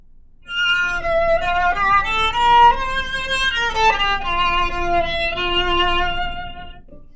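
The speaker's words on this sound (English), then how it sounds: "So I'll just play a little scale or something with sul pantacello" A bowed string instrument from a school chamber orchestra plays a short scale sul ponticello, bow near the bridge, giving a glassy, gritty, distorted tone; the notes step along steadily, close and fairly loud, with no talk.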